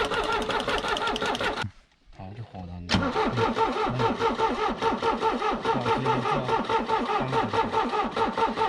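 A vehicle engine with fuel pump and injector trouble is cranked, drops out for a moment, then catches and runs with a busy, rattling idle, loud and close, while a voice talks over it.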